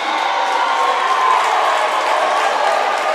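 A high school volleyball crowd in a gym murmurs, cheers and claps in a steady mixed roar after a close line call, with voices mingling throughout.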